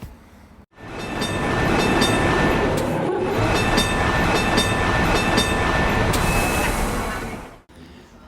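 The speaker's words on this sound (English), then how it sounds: "A ding-ding is a tram system, or is a tram that is nicknamed a ding-ding because it makes ding-ding sounds." A ding-ding tram rolls along its rails with a steady, close rumble and clatter, thin metallic squeals running over it for several seconds before it fades at the end.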